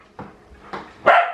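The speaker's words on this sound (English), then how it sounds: "Coda, everyone stop barking" Three sharp dog barks spaced apart, the last one louder and longer, with short quiet gaps between them.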